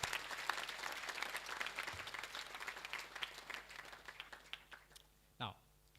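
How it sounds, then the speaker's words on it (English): An audience at a girls' college speech and prize-giving day claps in a sustained round of applause, moderately distant and fairly quiet, thinning out toward the end as a voice begins speaking. "Let's give her a round of applause."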